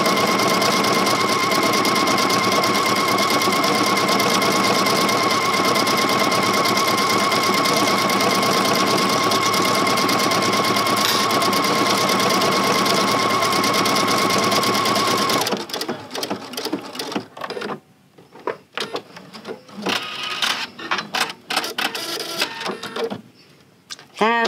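A sewing machine stitching yarn with a three-hole cording foot runs steadily with a loud, even mechanical whir for about fifteen seconds, then stops, leaving intermittent handling clicks and rustles.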